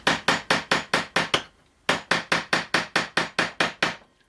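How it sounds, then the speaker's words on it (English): A hammer striking the end of a hammer-through screwdriver to loosen a screw: a fast run of about seven crisp, evenly spaced metallic taps, a short pause, then about ten more at the same pace, close and loud with no talking. "give it a bit of pressure onto the screwdriver and twist it as well anti-clockwise, and then we can proceed just to tap it"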